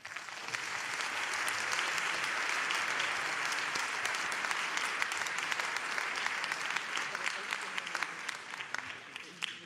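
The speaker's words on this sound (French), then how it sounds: "je ne doutais pas des applaudissements sur votre intervention" A plenary audience at a general-medicine conference applauds, a sustained, dense roll of many hands clapping that holds evenly throughout, heard from a little distance.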